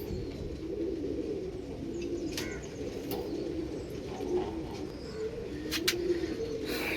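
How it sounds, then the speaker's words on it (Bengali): A male and female pigeon pair coo steadily, their low rolling calls overlapping in a continuous murmur, with a few faint higher chirps scattered on top. "দেখুন পায়রা, একটা নর পায়রা আছে আর এই পাশে একটা মাদা পায়রা।"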